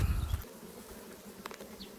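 Honeybees flying at a hive entrance while carrying willow pollen, a steady close buzzing hum with a brief louder low thump near the start.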